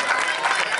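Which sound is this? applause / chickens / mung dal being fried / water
applause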